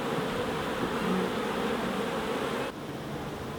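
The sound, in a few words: honey bees buzzing at beehive entrance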